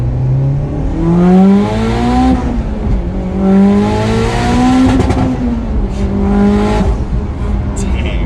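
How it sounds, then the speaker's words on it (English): A turbocharged Mitsubishi Evo X engine revs hard through a first gear pull, its pitch climbing in repeated loud rising sweeps up toward the rev limiter, heard close from inside the car with a brief spoken exclamation. "so we'll do a bit of a first gear pull. We'll get up in the RPMs."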